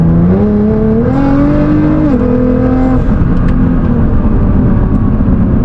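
Nissan GT-R engine heard from inside the car under throttle, a loud continuous roar with pitch rising in steps through shifts and then holding steady amid road noise, with no talk.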